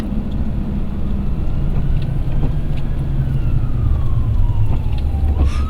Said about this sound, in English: Sure enough, this fire apparatus is not far behind.